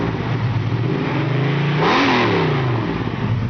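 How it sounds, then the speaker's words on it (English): A 1970 Camaro's 454 big-block V8 rumbling at idle with a lumpy, loping cam chug, swelling briefly in a short rev before settling back; close and steady. "You can hear the chuggity chug of the cam."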